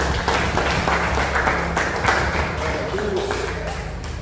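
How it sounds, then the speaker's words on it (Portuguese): Church congregation applauding during a worship service, a steady wash of clapping mixed with voices and shouts, moderately loud throughout. "Dê uma salva de palmas ao Senhor."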